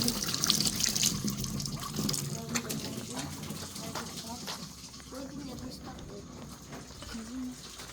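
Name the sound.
water from a tap filling a container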